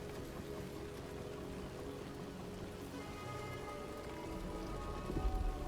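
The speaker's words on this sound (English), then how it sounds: "Yeah, we've got a storm coming in." Storm rain in the video game The Wandering Village patters as a soft, steady hiss, faint and continuous, swelling slightly toward the end.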